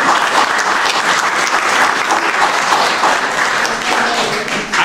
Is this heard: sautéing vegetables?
no